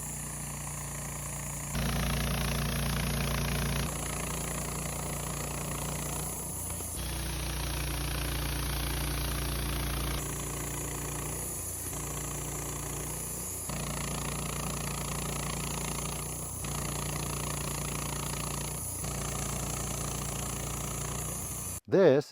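A Woodmizer LT15 band sawmill cuts Madrone logs into 1.5-inch-thick lumber, its engine roaring steadily and loudly up close, with the pitch and load shifting as the blade works through each pass.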